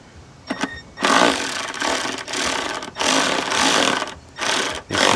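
A power tool fitted with a 7mm socket runs in several loud, close whirring bursts of about a second each, separated by short pauses, while bolts on a Leitner ACS roof rack are turned.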